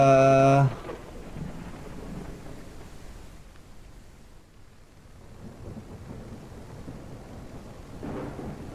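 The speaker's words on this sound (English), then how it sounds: "Oh my gosh. What a storm." Thunderstorm with rain in the video game Albatroz: a low, diffuse rumble and steady rain wash run for several seconds after a brief loud opening tone, with a swell of storm noise near the end.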